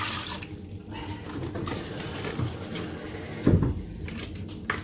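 Water runs from a tap into a soup pot for Dutch pea soup in a home kitchen, a steady splashing stream with a brief louder knock or clatter near the end.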